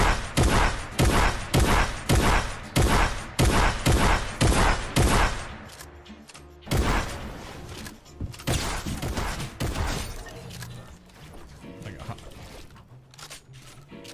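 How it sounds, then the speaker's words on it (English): Combat shotgun firing in the video game Fortnite: a rapid string of loud, evenly spaced blasts, then a heavier boom followed by a rumbling, crunching tail and scattered impacts. "Take a look at how far away the combat shotgun can deal damage."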